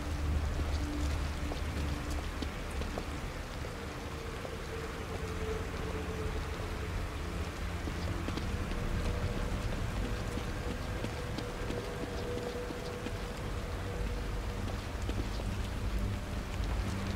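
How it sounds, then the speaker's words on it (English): Steady rain falls in The Evil Within game, a continuous wash of drops with a low rumbling undertone, even and unbroken for the whole stretch. "Rain is gonna wash away any evidence."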